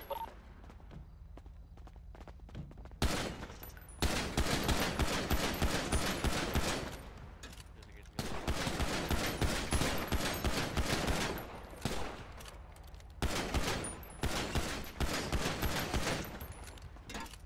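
Bursts of automatic gunfire aimed at a vehicle in the video game Payday: loud, rapid volleys repeat with short gaps between them. The shots are up close, with little talk over them.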